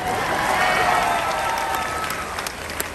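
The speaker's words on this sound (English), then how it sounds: "Everybody, give a nice round of applause to our stagehand." An audience at a sea lion and otter show in a SeaWorld Orlando stadium applauds the stagehand, a broad sustained crowd clapping with a hint of cheering that tapers slightly toward the end.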